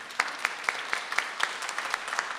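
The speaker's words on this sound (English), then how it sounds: "let's give a big applause to Stefano" Sparse, separate hand claps at a conference, applause for a speaker, picked up faintly through a computer microphone, with distinct claps at an irregular beat and no talking.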